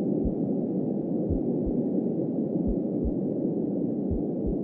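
A slow, muffled heartbeat thuds low and steady in a horror exploration game, about two beats per second, under a constant wind-like hiss.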